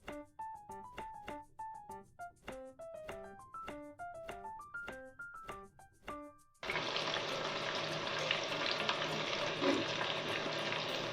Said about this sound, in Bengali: তার মধ্যে বাঁধাকপিগুলো সিমে আঁচে ভেজে নিলাম ভালো করে।